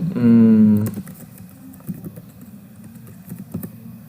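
Keys clatter on a computer keyboard in a short burst of crisp, close clicks that follow a brief tonal hum, then a few scattered taps.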